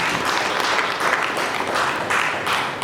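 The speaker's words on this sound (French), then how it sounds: "sous nos applaudissements" Crowd at a political gathering applauds as an ambassador is introduced, a sustained, dense wash of clapping from many people that swells and eases in waves.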